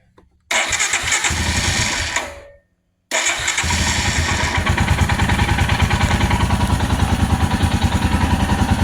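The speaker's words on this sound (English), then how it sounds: "Give her a fire." Royal Enfield Himalayan motorcycle after a fuel pump replacement, cranking briefly, pausing in silence, then starting and settling into a loud, close, steadily pulsing single-cylinder idle, no talk.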